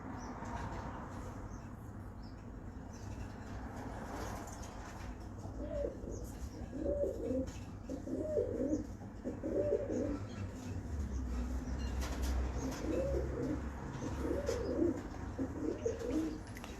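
Pigeons from a pigeon fancier's loft coo in soft, repeated throaty phrases, fairly close, rising and falling in rhythmic bursts over a faint low background hum.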